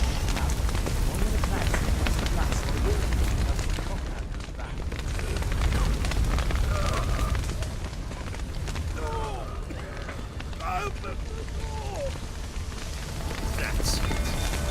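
Fire spreading and burning in The Witcher 3: Wild Hunt: a steady, dense roar with crackling texture fills the whole stretch, dipping slightly midway, and a voice is faintly mixed in.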